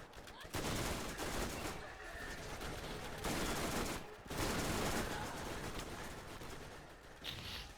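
Dense, loud video game gunfire fills the space, sustained automatic bursts with only brief gaps, close and harsh, with a voice faintly under the shooting.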